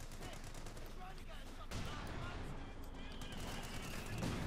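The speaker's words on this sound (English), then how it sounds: "And there you go, Panzerwerfer unleashed." Panzerwerfer rocket barrage in a Company of Heroes 2 1v1 match, a dense rolling rush of launches and blasts over steady battle noise, with a caster talking over it.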